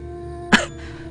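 A single sharp cough, like a choked throat being cleared, sounds close and alone in a Korean horror radio drama, with a short breathy tail after it.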